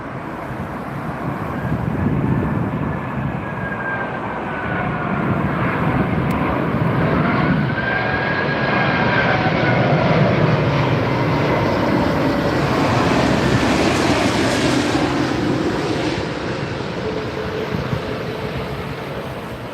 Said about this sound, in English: So this morning we got British Airways A380 and now we're going to get another one.